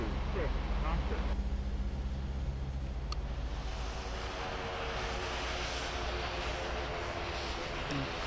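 Airplane landing in the video game World of Airports: a steady, loud jet engine roar with broadband rushing noise holds throughout, while a voice talks over it during the first part.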